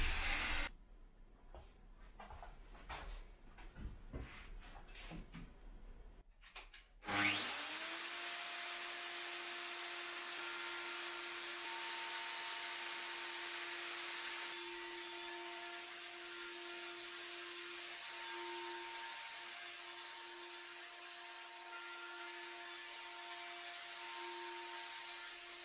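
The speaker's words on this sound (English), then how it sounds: "And then I run the router back and forth" An electric router spins up to a high, steady whine after a few seconds of scattered knocks and handling clicks, then runs continuously while it is moved back and forth over a veneer fretboard.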